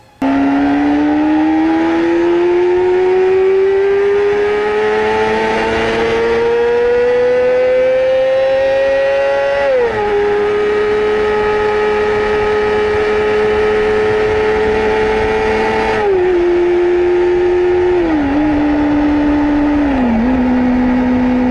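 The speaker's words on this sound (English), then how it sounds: "the best motorcycle engine sounds" Motorcycle engines rev loudly and alone, a strong tonal drone climbing steadily in pitch, then dropping in stepped downshifts, as if several bikes are heard one after another at close range.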